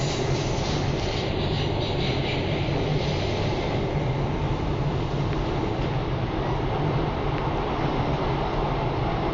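A Pune Metro train runs out of an underground tunnel, heard from on board as a steady loud rumble and roar with a faint rail clatter that eases slightly toward the end, with no talk.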